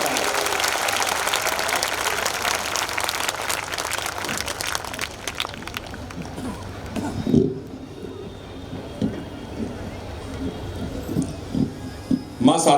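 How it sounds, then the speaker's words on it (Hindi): A Hindi kavi sammelan audience greets a poet with loud, dense clapping that fades out about halfway through, leaving scattered noises and voices in a large open hall. "पूरा सदन दोनों हाथ उठाकर जोरदार तालियां बजाकर हेमंत पांडे का स्वागत करे।"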